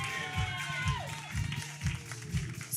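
Audience clapping at a community wellness session, a steady patter of applause that stays moderate. A voice speaks over it, and rhythmic low thumps sit underneath.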